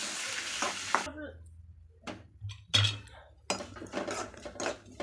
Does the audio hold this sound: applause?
no